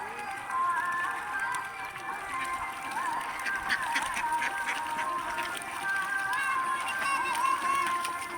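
Ducks at a farm holding about 1,000 to 1,500 birds keep up a continuous chorus of quacks and honking calls, with a person's voice mixed into the flock noise.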